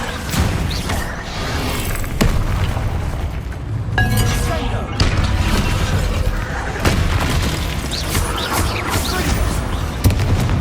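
Repeated Confringo blasting-spell explosions in the Hogwarts Legacy video game, a run of booming bursts and crackling impacts over dense background game sound, with a sharp transient near the start and another midway.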